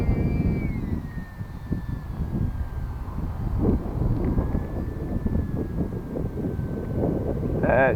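Gusty wind of about 10 mph roars across the microphone in constant low rumbling buffets, with the thin whine of a small model aircraft's motor sweeping faintly above it.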